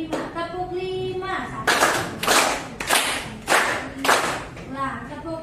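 An Indonesian classroom group of students claps in unison to the 'tepuk 5' clap chant, five sharp loud bursts in a steady rhythm, with children's chanting voices between and around the claps.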